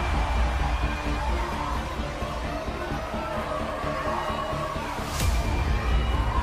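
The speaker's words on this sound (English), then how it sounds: "We ain't fazed from that stadium noise" A dense, steady roar of a large video game stadium crowd in College Football 25 fills the scene, with indistinct shouts mixed into the constant wash of noise.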